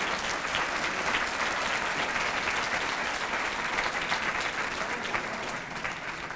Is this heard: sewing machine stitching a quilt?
no